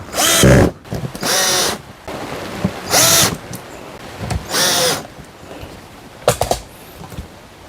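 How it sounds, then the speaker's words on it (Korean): Power drill boring pilot holes and driving screws into a wooden box-style hive for native honeybees, heard as several loud whirring bursts of about a second each, separated by short pauses, with a quick stuttering run near the end. "저렇게 비트로 구멍을 뚫어 가지고 피스를 박아주고 있습니다"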